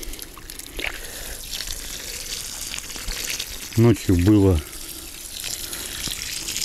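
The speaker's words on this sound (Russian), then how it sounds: "И начинаем опять полив." Water splashes and trickles onto a freshly transplanted blue spruce on a cold autumn day, a soft continuous pour with someone speaking briefly partway through.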